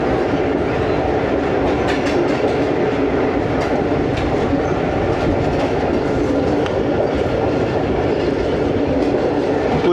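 Green Line AC business class train running past Landhi Junction in Pakistan without stopping, a loud continuous rumble with rhythmic clickety-clack of wheels over rail joints and faint squealing, steady throughout with no talking.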